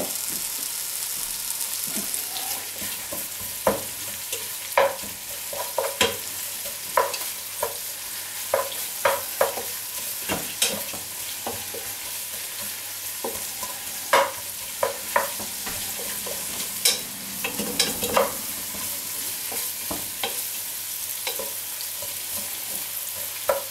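Finely sliced onions and smoked bacon lardons fry in a pan, with a constant sizzle punctuated by repeated sharp scraping knocks of a spoon stirring against the pan.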